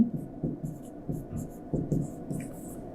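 A pen writes a single word on paper, giving soft, close scratching strokes in short bursts with brief gaps between them.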